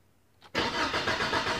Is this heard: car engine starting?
yes